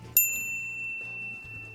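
A notification bell gives a single bright ding with a long ringing decay, clear over a quiet, faintly humming background.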